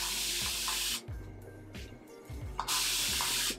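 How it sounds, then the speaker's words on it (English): A spray bottle spritzes water onto a curly wig in two bursts of hissing mist, one at the start and one near the end, close and crisp, with quiet handling between them. "take the spray and, like, you know, spritz it so that the curls could look fresh"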